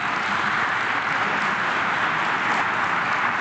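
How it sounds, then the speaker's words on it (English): Audience applause at an education conference on re-envisioning higher education in India, a steady, even wash of many hands clapping throughout, slightly distant and uniform. "Can we give her a big round of applause?"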